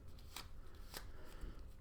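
Playing cards shuffled by hand during a tabletop game of Nevermind The Distraction, a couple of quick riffling bursts over a quiet background at close range.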